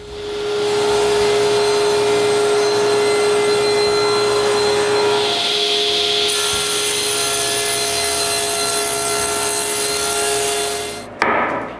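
A saw blade rips through a wooden interior door panel in one long, steady, loud whine that runs close and unbroken before winding down with a final clunk near the end.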